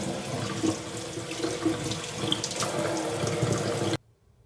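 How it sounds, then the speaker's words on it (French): Mushrooms are rinsed under lukewarm water from a kitchen tap, a steady close splashing stream into the sink that stops abruptly near the end, leaving near silence. "j'ai rincé mes champignons à l'eau tiède."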